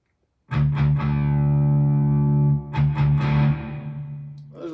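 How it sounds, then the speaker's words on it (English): An electric guitar with a little reverb and a distorted, effects-heavy tone rings out in sustained chords, struck twice with long decaying notes, loud and close, with no talking. "There's a little reverb."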